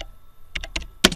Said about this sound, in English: For example, if you type in print